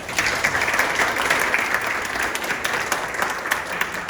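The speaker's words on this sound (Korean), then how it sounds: "다시 한번 큰 박수로 맞아주시기 바랍니다." An academic conference audience applauds to welcome a speaker, dense continuous clapping from a crowd that fills the room evenly and stays fairly loud throughout, with no talking over it.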